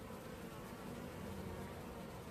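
Honey bees buzz inside an open hive, a soft, continuous droning hum from many insects close up, with no talk.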